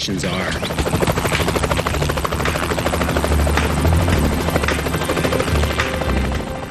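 A helicopter flies over Hawaiian terrain, its rotor a loud, steady, rapid thudding chop with engine whine throughout, close and continuous.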